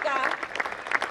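Applause for young choir members at a nursery school annual function, continuous clapping from the audience with a voice calling out over it.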